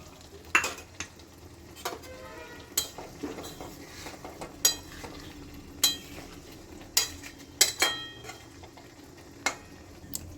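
Poppy-and-mustard rinse water is poured from a mixer bowl into a pan of fish gravy on the stove, heard as scattered metallic clinks and scrapes of utensils against the cookware over a quiet, faint sizzle.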